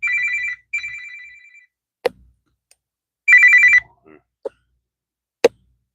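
Phone ringing during a call, bright electronic ring bursts repeating with gaps, loud and close, separated by sharp clicks and silence, no speech.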